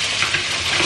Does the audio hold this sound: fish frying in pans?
yes